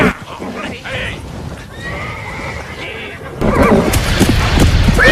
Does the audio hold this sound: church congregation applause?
no